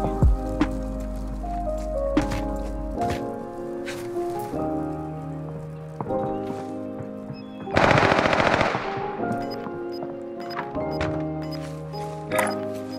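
Rapid gunfire in the Warzone battle royale video game, mostly long bursts of automatic fire at close range. A loud, noisy crackling blast stands out midway, over a layered musical and ambient game soundtrack.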